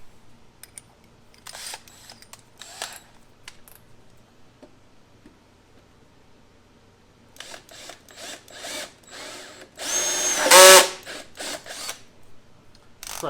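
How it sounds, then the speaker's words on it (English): A power drill bores a hole to take a length of 1/2 inch all thread, heard as scattered short bursts and clicks, a quiet stretch, then a run of quick pulses building to one louder, sustained whir near the end. "I'm going to drill a hole and put it in."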